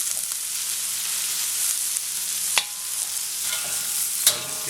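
Vegetables with zucchini, garlic and butter sizzle in a pan under a steady hiss, with a couple of sharp scraping clacks as a utensil stirs them around.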